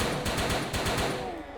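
Custom weapon from a Doom wad firing a rapid burst of about eight sharp, evenly spaced shots, loud and close, with a booming low end that fades into a short tail.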